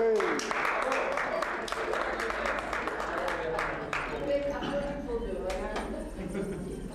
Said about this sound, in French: Et alors c'est donc de l'applaudir,